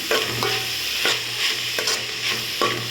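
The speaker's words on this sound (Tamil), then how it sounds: "கருவேப்பிலை சேர்த்து நல்லா வதக்கிக்கலாம்" Curry leaves sauté in a pan for beef pepper gravy, a constant frying sizzle broken by rhythmic scraping stirs roughly every half second, close and loud, with no talk.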